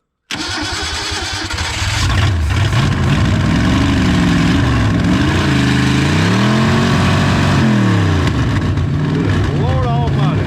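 A 1961 Willys Jeep engine, left standing for 30 years, cranks and fires, then runs loud and rough with rising and falling revs under excited voices and shouting.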